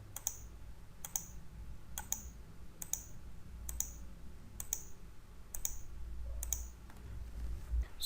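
Mouse clicks on installer Next buttons, eight sharp, evenly spaced clicks about one per second, close and clear over faint low room hum.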